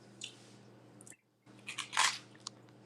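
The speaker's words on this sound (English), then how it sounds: "I can hear the crunch you bite into that toast." Toast being bitten and chewed up close: a few dry crunches, loudest in a burst near the end, over a quiet hum with a short silent gap between bites.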